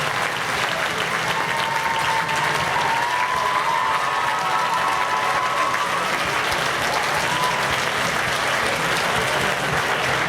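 An audience at an Irish Fair claps and cheers after an Irish dance show, a loud, continuous wash of applause with faint whistles and voices riding on top, holding steady throughout.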